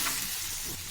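Chicken frying in a pan as chukka masala powder is stirred through it, a soft steady sizzle with light scraping of the stirring spoon, close and continuous throughout.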